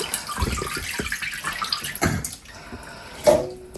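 Fish intestines being washed by hand in water in a basin or sink, with splashing and trickling of running water. Some louder swishes come early and again near the end, and no one talks.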